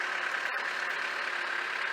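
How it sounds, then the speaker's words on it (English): A neighbor's tractor works steadily nearby, its engine giving a continuous mid-range drone with a brief dip, no talk heard. "we got the neighbor over here with his tractor setting this stuff out"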